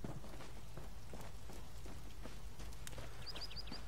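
Horse hooves clip-clop faintly in The Elder Scrolls Online, a soft irregular patter of steps over a steady background hiss, with a few chirps near the end.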